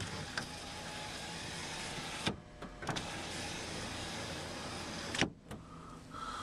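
The powered rear window of a 2009 Chevrolet Silverado 1500 LT whirs in a steady motor hum, pausing with clicks and thuds as it stops and restarts twice, close and clear.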